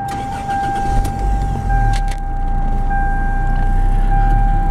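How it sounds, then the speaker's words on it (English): A 1993 Geo Prizm car engine running steadily and fairly loud, a low continuous rumble with a thin mechanical whine above, after a brief start-up. "Now we'll go ahead and start the engine"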